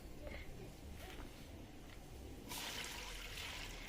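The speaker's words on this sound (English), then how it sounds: "So guys, this is my stock fish. I'm going to add water." Water is poured onto stockfish in a cooking pot in an outdoor garden, a steady trickling stream that grows louder and fuller toward the end, with low background noise underneath.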